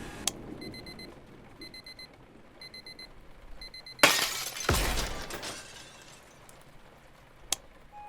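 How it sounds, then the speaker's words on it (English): An alarm clock beeping in short repeated bursts, four evenly spaced groups of electronic tones, followed by a loud crash like shattering glass and a lingering rumble, then quiet room tone. "Annoying alarm clock out of reach it is."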